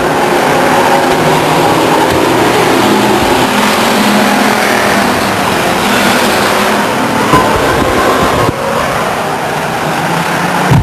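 Race cars roar around the Stockton 99 Speedway oval, a loud sustained engine drone rising and falling as the pack speeds past, with no commentary over it.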